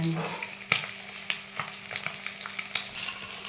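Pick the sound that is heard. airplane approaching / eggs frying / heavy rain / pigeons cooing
eggs frying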